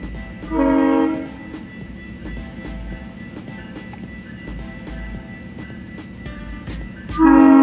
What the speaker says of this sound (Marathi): तर सिग्नल सुटून पुन्हा लागलेलं आहे आणि आता ती ट्रेन जाईल